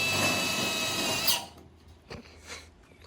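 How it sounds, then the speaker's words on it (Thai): A power drill whirs loudly and steadily for over a second, driving screws into metal sheet during food truck construction, then cuts off, leaving faint scattered handling noises. "นี่ครับเจาะเรียบร้อยก็ทำการยิงเลยนะครับ"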